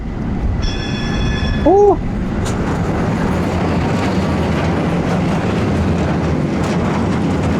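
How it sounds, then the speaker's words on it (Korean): A tram passes very close by on a city street, giving a loud, steady rolling rumble throughout, with a brief tonal horn or bell sounding early on. "트램, 트램. 어, 온다. 오. 바로 옆으로 지나가"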